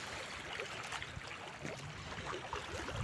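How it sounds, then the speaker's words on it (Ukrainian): Waves washing onto the shore, a broad steady rush of water and surf noise, moderately faint and continuous with no voices. "Сьогодні хвилі."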